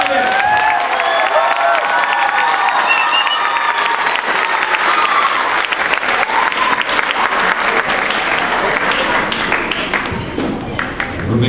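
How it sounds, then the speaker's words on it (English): Audience at an elementary school spring concert applauding first-time band students, dense sustained clapping with some cheering, loud and close, lasting throughout with a few voices mixed in. "Let's have one more round of applause for our first-time band students."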